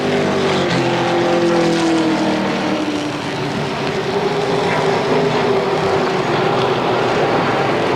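Race cars at Motordrome Speedway in 1992 roar down the front straightaway, a loud, continuous engine drone with pitch sweeping as they pass.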